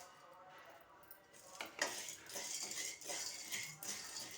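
Dry pasta being roasted and stirred in ghee in a pan for kheer, with a spoon scraping and clinking against the metal in a steady stirring rhythm, fairly faint and close.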